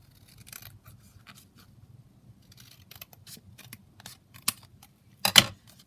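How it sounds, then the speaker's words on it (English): Scissors trim paper across the top edge, giving a run of soft, quiet snips followed by a sharper, louder cut near the end, with light handling rustle between the snips. "And then we'll just trim it across the top."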